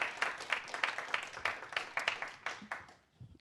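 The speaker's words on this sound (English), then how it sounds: "Give a round of applause for Secretary Chen." Audience applause at a fireside chat, a brief round of scattered, fairly quiet clapping that fades out after about three seconds.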